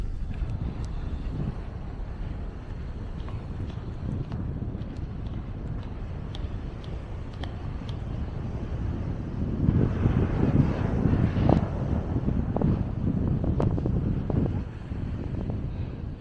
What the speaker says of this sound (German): So, doch ganz schöner Wind jetzt hier.